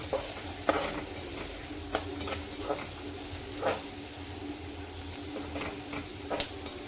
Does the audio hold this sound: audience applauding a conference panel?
no